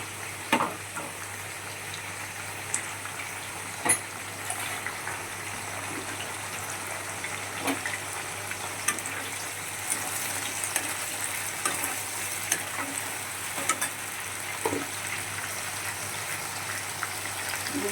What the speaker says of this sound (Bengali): আলুটা ভাজা হয়ে গেছে। আদা আর জিরে বাটা দিলাম।